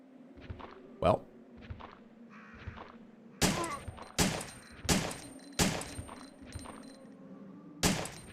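Gunfire in Resident Evil 3, a series of sharp, separate shots spaced irregularly over several seconds, mixed with softer thuds and footsteps, and faint background game sound.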